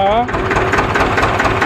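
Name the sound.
Ursus C330 tractor engine running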